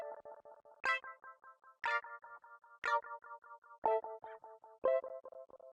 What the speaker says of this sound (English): The other delay is the modern classic analog delay.